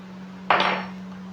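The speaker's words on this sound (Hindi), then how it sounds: "अब इसे चम्मच के ज़रिए मैं एक मरतबा मिक्स कर दूंगा" A spoon scrapes and clinks once against a bowl of boiled mashed potatoes being mixed with garam masala, a single near, brief burst over a steady low electrical hum.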